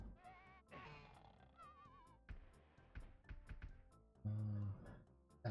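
Goats bleat repeatedly in the 1994 game Super 3D Noah's Ark, a string of wavering cries and short thumps at a moderate, uneven rhythm, with no talk over them.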